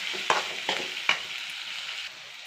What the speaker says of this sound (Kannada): ಈಗ ಈರುಳ್ಳಿ ಚೆನ್ನಾಗಿ ಫ್ರೈ ಆಗಿದೆ.